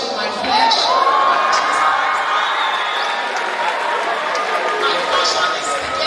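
An audience at a university inaugural lecture cheers and applauds a professor in a sustained, loud crowd roar with whoops, while a voice carries on over the noise.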